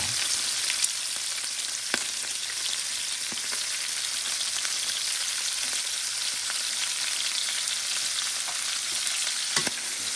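Food seasoned with salt and pepper sizzles steadily in a hot pan while it is stirred. The frying noise is close and continuous, with occasional small clicks, and no one speaks.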